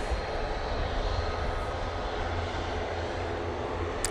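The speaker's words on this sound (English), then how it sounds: "So this is the flight to Boa Vista now, using 737 MAX 8" Boeing 737 MAX 8 jet airliner engines at Manchester Airport, a steady broadband roar held evenly and moderately loud throughout, without voices.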